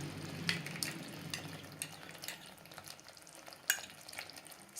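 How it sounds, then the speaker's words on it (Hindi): Chicken changezi gravy is mixed in a pan after the oil has risen to the top. Quiet, intermittent scraping strokes sound over a soft frying sizzle, with a few sharper knocks and no voices. "एक बार मिक्स कर लेंगे इसे अच्छे से।"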